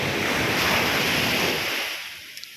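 Choppy sea surf at a beach in San Felipe, Zambales, on a windless day: a broad, loud wash of breaking waves that surges, then recedes and fades, with no talk.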